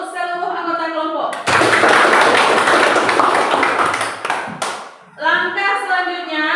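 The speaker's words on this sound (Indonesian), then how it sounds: "Tepuk tangan untuk seluruh anggota kelompok" A classroom group breaks into a burst of applause for its members, a dense wash of clapping lasting about three seconds between stretches of a teacher's talk.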